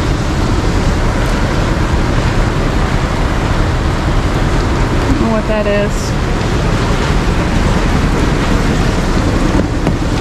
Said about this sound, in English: As you can hear and see, it's quite a rainy day.